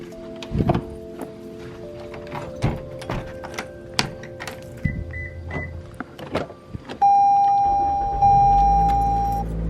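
Getting into a car early in the morning before a nurse's 16-hour shift: scattered thumps, clicks and rustles of a door and seat, then a steady tonal hum from the car starting or a fan running.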